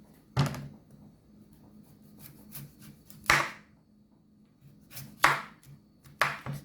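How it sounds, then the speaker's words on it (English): A large turnip being peeled with a kitchen knife: a few sharp, close scraping strokes spaced a second or two apart over a quiet background, with no talking. "Don't peel it too deep, guys."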